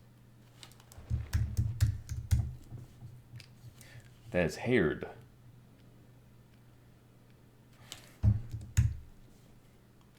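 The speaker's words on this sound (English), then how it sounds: "Loud typing. I'm sure you heard that." Bursts of loud keyboard typing, clustered clicks in two or three runs separated by short pauses, with a brief spoken phrase in the middle.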